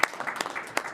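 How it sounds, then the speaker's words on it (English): Brief, staccato applause from a small audience at a school board meeting: a second of scattered, fairly loud hand claps, close by. "It was a fairly abbreviated staccato applause"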